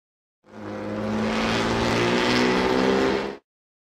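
A car engine driving past, a steady motor hum with tonal drone that starts abruptly, holds at an even loudness for about three seconds, then cuts off cleanly, with no voices.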